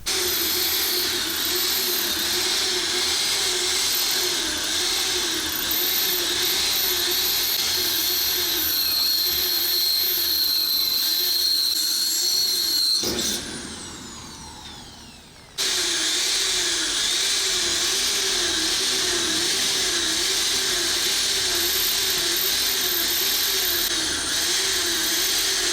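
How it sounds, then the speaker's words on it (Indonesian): A portable clean-water processing machine runs with a loud, steady mechanical whine and hiss. The noise drops out abruptly for about two seconds, then resumes at the same constant level. "Mesin pengolahan air bersih ini bisa dibawa kemana saja."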